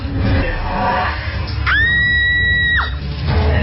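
A woman lets out a shrill, sustained scream of about a second, rising and holding steady before breaking off, over a dense murmur of voices and background noise in a horror radio drama.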